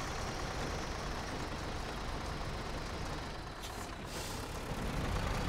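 Tractor engine in the farming video game Tractor Touchan, a loud, steady broadband drone running without a break, with a brief brighter hiss near the end.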